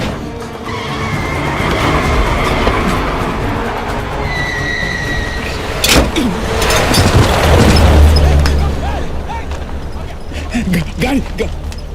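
A car skids in a Hindi action film scene, a loud screech and rumble rising midway under a dense dramatic score, with a heavy boom and low engine roar following.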